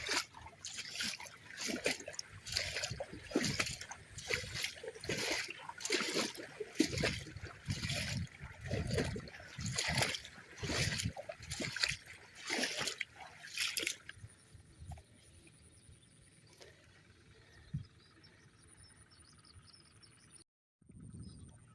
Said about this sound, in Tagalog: Pinalalakas niya yung tubig.